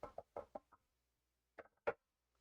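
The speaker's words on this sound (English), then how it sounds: "Wood has been knocked on, but you can knock on wood for me too." Knuckles rapping a wooden tabletop: a quick burst of about five close knocks, a pause, then a few more sharper raps, loud and dry in a quiet room.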